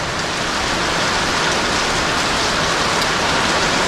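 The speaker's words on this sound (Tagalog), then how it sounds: "Lalong lumakas ang ulan." Heavy rain pours steadily, a dense unbroken hiss of drops on surfaces with no letup and no voices.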